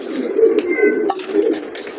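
Pigeons kept at a Baku pigeon racing club coo steadily in a low, throaty rolling pattern, close and fairly loud, with no talk over them.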